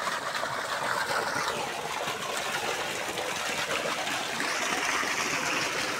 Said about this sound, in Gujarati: હવે પાણી પાવાનું પાછું ચાલુ થઈ ગયું છે.